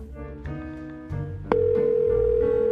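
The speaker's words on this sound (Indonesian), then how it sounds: "Kalau begitu, telepon dia sekarang." A steady electronic telephone line tone starts partway through a call and holds loud and unbroken to the end, following a stretch of low background music.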